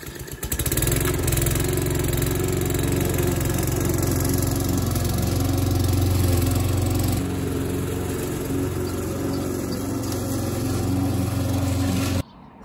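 A lawn mower cuts grass in front of a house in a garden, its engine droning loudly and steadily for about twelve seconds with slight shifts in load before cutting off abruptly, with no talk.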